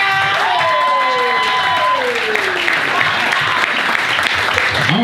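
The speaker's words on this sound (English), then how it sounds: "So I want you to make some noise, some good noise for Reesee." An audience at a spoken-word poetry open mic night breaks into sustained applause with cheers and whistles, loud and continuous throughout.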